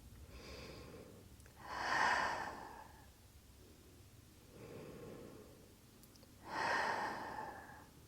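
Two slow, deep breaths during a calm yin yoga session, each a soft audible inhale followed by a longer, stronger exhale, close and quiet with no talking.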